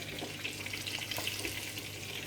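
Breaded squid pieces fry in oil in a pan, giving a steady hissing sizzle with fine crackles throughout and no voices.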